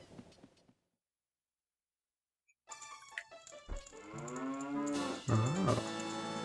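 A cow in the Zelda Ocarina of Time video game lets out a long, loud moo with sliding pitch after a stretch of silence, clean game audio with no talk over it.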